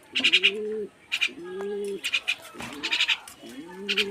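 Spotted doves coo in a series of soft, low, rounded calls, about four phrases in quick succession, close by and alone with no talking.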